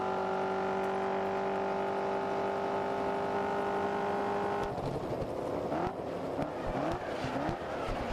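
Dodge Charger or Challenger muscle car racing in GRID Autosport, its engine a steady loud harmonic drone for several seconds, then breaking into rough revving, gear changes and tire squeal as the car slides.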